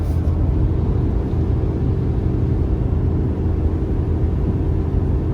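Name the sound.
pickup truck engine at full throttle towing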